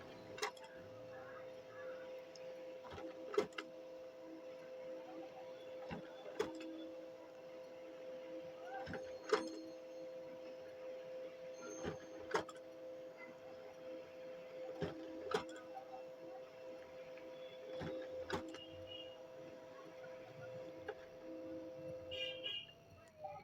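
An HP MFP 1188a monochrome laser printer prints copies with a faint continuous hum broken by regular mechanical clicks and thumps every few seconds.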